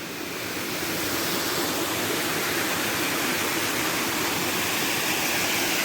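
Strong water rushes steadily down a waterfall, a loud, unbroken roar that fills the whole stretch with no voices over it.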